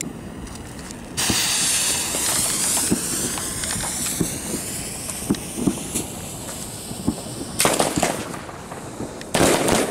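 A 100-shot San Fermines firework battery fires comets, peony effects and meteor crackers: loud continuous whooshing hiss punctuated by repeated sharp pops and crackles, with bursts of rapid bangs toward the end.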